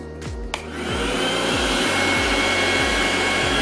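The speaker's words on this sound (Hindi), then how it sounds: "मिक्सर ग्राइंडर चल रहा है, आप देख रहे हो, आवाज़ भी सुन रहे हो" Loud whirring motor noise from a mixer grinder and fans running together on an Eastman solar power setup under full load, a steady drone with repeating pulsing sweeps, preceded by a brief click at the start.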